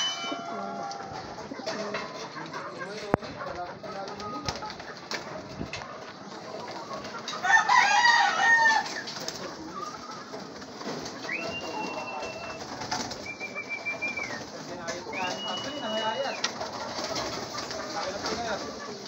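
Pigeons coo softly amid a busy outdoor backdrop, with a rooster crowing and occasional chicken clucks; distant voices murmur.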